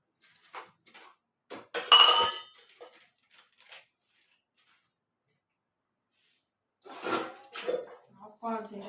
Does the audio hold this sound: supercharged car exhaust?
no